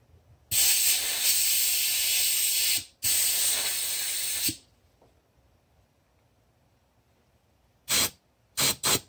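Compressed air blasts into a BMW R90/6 ATE brake caliper to push out the piston: two long, loud hissing bursts close up, then a quiet pause and three short, sharp puffs.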